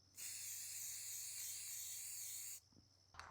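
Spray paint can laying brown paint onto an AAP-01 airsoft rifle through a wide nozzle, a single steady, close hiss lasting about two and a half seconds, then stopping, followed by a few faint handling taps.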